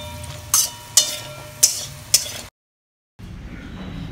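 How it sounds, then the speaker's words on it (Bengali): Broad beans stirred into spice masala in a pan: four crisp scraping, sizzling strokes over a low background hum, then a sudden break in the sound. "এবার এতে অ্যাড করে দেব টুকরো করে কেটে রাখা সিম।"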